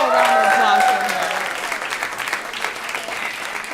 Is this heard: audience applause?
yes